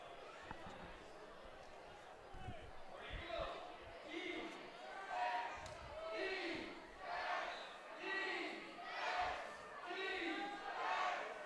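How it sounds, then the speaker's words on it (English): Ultimate frisbee crowd at a Vancouver Nighthawks home game against Seattle chanting a rhythmic repeated defense cheer, loud pulsing shouts in steady beats over general crowd noise. "Nighthawks crowd shouting defense, defense, defense."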